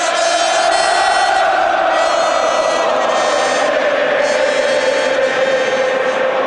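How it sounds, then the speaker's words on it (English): Tottenham Hotspur supporters singing in the stands at home against Manchester United, a loud, dense, continuous roar of massed voices holding a steady chant throughout. "The fans are in good voice and I sense some optimism within the crowd."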